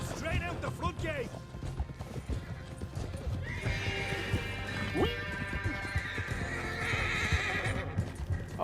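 In Red Dead Redemption 2, a horse whinnies loudly and its hooves clip-clop at a gallop, amid crashes and gunfight clutter, with a voice briefly heard over the commotion.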